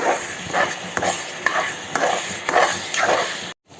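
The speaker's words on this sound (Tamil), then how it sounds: "இது ஒரு மூணு நிமிஷத்துக்கு நல்லா வதக்கணும்" Ground tomato puree stirred and sautéed in a pan for Pernambut-style mutton biryani: steady soft sizzling with a rhythmic scrape of the spoon about every half second, and a light metal tap or two, close and without talk.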